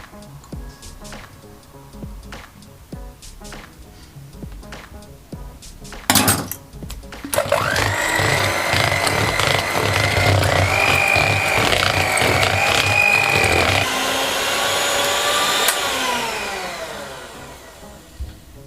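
Electric kitchen mixer whirring loudly as it beats muffin frosting made with cinnamon and vanilla, starting up after a few seconds of quiet clatter, running steadily with shifting pitch, then slowing and winding down near the end.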